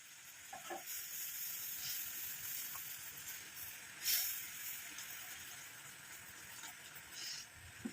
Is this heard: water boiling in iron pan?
yes